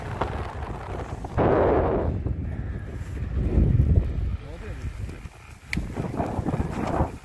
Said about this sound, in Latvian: Ir vējš augšā šodien